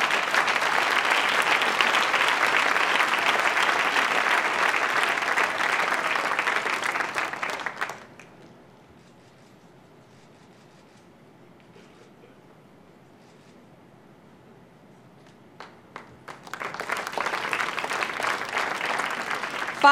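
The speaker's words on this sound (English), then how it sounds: "So let's give them a round of applause." Audience applause at the Clinton Global Institute fills a large hall, loud and dense for about eight seconds, then fades to quiet before a second burst of clapping rises near the end.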